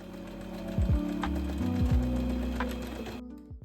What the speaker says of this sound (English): secure them with a zigzag stitch or a straight stitch by going back and forth a few times